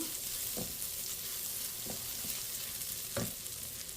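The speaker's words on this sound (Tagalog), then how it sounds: "Nagisa na ako ng ating bawang." Garlic sautés in a hot pan with a steady, close sizzle, broken by a few soft stir scrapes, with no voices.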